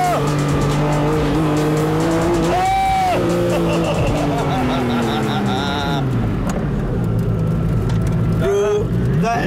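A fast car accelerates hard with a roaring engine whose pitch climbs and drops through gear changes, while tires squeal in bursts; the sound is loud and close, with people audible in the cabin.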